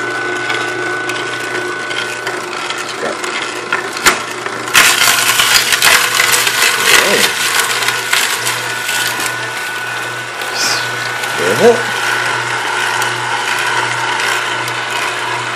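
An Omega VRT350 juicer runs steadily while juicing, giving a continuous close mechanical grinding hum with scattered clicks, ratcheting creaks and a few sharper knocks; no one speaks.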